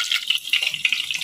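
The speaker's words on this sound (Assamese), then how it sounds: "ইয়াতে কণীটো ফ্ৰাই হ'ব দিছোঁ" Eggs frying in a pan in a home kitchen make a close, busy crackle and sputter that stays dense and even through the whole short stretch.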